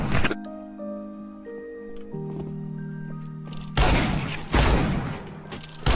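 Gunfire in a Counter-Strike shootout with the R8 Revolver, with sharp loud blasts in the second half over a backdrop of steady game tones and background music.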